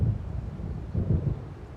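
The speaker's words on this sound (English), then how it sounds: "It seems there's a storm coming." A thunderstorm rumbles in the Alan Wake video game, with a low, continuous roll of thunder carrying steady wind and rain noise and swelling slightly partway through.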